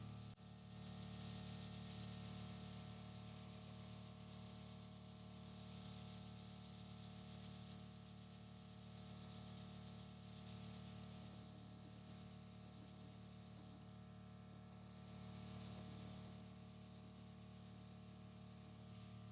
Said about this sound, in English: So fun airbrushing my face while I have to keep my eyes closed.